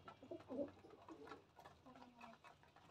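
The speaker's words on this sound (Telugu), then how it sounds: "ఆగట్లే పావురాళ్ళు ఆగమన్నమాట, ఎందుకంటే మా నాన్న వచ్చేసి గింజలు పెట్టాడు కదా, ఆ గింజలు తినడానికి వెళ్తున్నాయి అన్నమాట" Pigeons coo softly at close range while gathering to feed on scattered grain, with a few overlapping throaty coos and faint background bustle.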